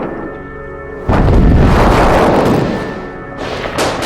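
Artillery shells bombard Sarajevo from the surrounding hills, and one deep, heavy boom rolls out over a low hum and rumbles on for a few seconds before a second, smaller impact follows.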